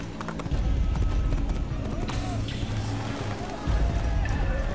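Horse hooves in an Assassin's Creed game, a steady clip-clop of trotting mixed with other game ambience and rustling, fairly close and constant throughout, with a voice speaking over part of it.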